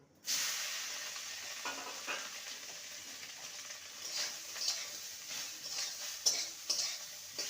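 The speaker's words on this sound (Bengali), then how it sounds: "দু মিনিট সয়াবিনটাকে ভেজে নেব" Soya chunks fry with a little turmeric powder in a pan, a steady close sizzle and hiss with occasional spoon scrapes and clinks, no talking.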